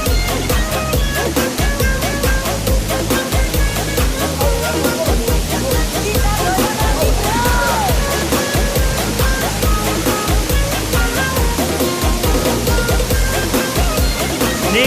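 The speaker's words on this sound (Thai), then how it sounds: "นี่คือน้ำตกนะครับ" A natural waterfall on a group outing, with steady, loud rushing water filling the whole stretch alongside faint voices and footsteps nearby.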